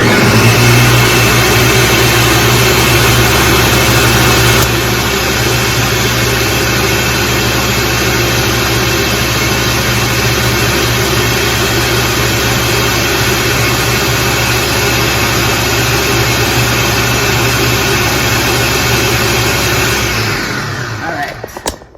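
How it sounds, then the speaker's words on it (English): A blender runs with a continuous loud motorized whir for about twenty seconds without pause, blending a drink, then cuts off abruptly near the end. "And I'm going to blend this bad boy."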